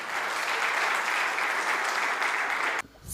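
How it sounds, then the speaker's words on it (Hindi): An audience claps loudly and continuously to welcome a young poet onto the stage, a thick wash of applause that cuts off sharply near the end. "मैं चाहता हूं कि आप उसे घनघोर तालियों से अपना आशीर्वाद प्रदान करें और आमंत्रित करें।"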